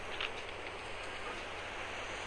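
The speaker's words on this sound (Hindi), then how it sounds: "ऐसा लग रहा है जैसे बारिश हो रही है, ऐसी आवाज आती है गेम के अंदर" Steady rain-like hiss from the video game Getting Over It by Bennett Foddy, a dense, even wash of patter that holds at a constant level throughout with no voices.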